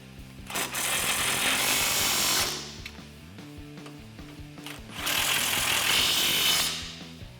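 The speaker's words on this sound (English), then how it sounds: "I'm gonna use my impact gun, just tighten them down" An impact gun with an 18mm socket drives the lower strut bolts tight on a 2015-2019 Ford F-150 during a front leveling kit install, giving two loud, rattling hammering bursts separated by a short quieter pause.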